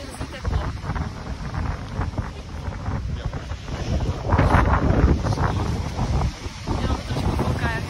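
Wind gusts buffet the microphone at the seaside in Catania in January, with a low roar of large waves and water rumbling underneath and no clear speech.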